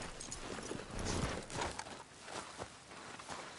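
Horse hooves clip-clop at an even walking pace in the Western video game Red Dead Redemption 2, close and fairly quiet, with faint ambient noise and no talk.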